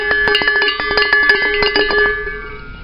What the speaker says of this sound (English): Another aluminum cylinder, a little bit longer.